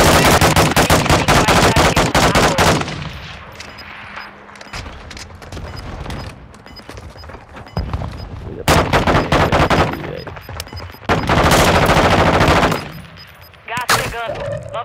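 Loud, sustained automatic gunfire from a video game, long dense bursts separated by brief quieter gaps, with a voice speaking at times between the volleys.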